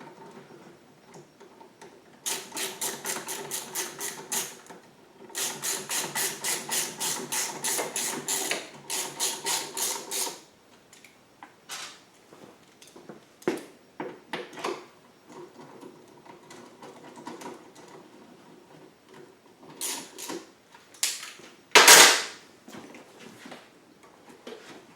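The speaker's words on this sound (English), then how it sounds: "I'm going to put the middle bolt into each side first" Bolts are fitted to a GenMax GM9000iED generator's extended-run fuel kit, mostly with a rapid ratcheting tick in two long runs. Scattered metallic clicks follow, then a sharp loud clank near the end, all close and with no talking.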